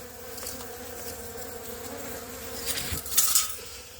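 A honeybee swarm buzzes around a hive near a bee yard as a steady, moderately close drone, with a few individual bees swelling louder as they pass near the end.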